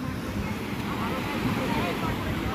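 Sea water rushes in over the stones at Digha beach, where people are bathing. Waves churn and wash ashore in a constant roar, mixed with heavy wind buffeting the microphone.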